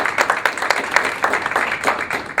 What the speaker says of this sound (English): a big round of applause for organizing this